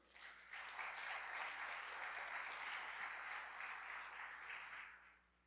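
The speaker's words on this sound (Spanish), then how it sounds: "Ayúdame a dar un aplauso al Señor." A church congregation applauds together in one sustained, even burst of clapping lasting several seconds, rising quickly and tapering off at the end, with no voices over it.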